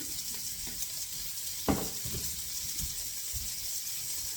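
Dry pancake batter ingredients are mixed thoroughly in a bowl, giving faint scraping and rattling strokes with one sharper knock partway through, set against a constant hiss.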